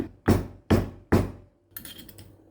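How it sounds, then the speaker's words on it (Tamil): Fennel seeds and cardamom seeds are coarsely pounded: three heavy, evenly spaced thuds, then a lighter rattling clatter. Nearby and alone, with no talk. "அடுத்து சோம்பும் ஏலக்காய் விதையும் சேர்த்து ஒன்றும் பாதியமாக இடித்து வச்சுக்கோங்க"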